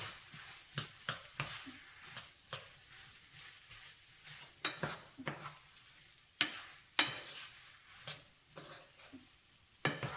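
A wooden spoon stirs and scrapes bacon frying in a pan, giving irregular scraping strokes over a steady sizzle, close and moderately loud, with no talking.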